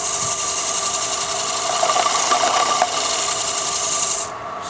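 Sandpaper rubs against a wooden bowl spinning on a lathe, a steady close rasping hiss with slight surges that drops to a quieter hum near the end.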